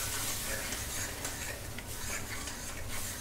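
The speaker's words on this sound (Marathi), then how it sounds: "शिजलेलं वरण टाकूयात. आता तुम्ही बघा, तेल सुटलेलं आहे मसाल्याला" Cooked lentils with pumpkin and drumsticks stirred into a hot spice tempering for sambar, a steady dense sizzle under scraping and stirring in the pot, with a few clinks of the utensil against the pan.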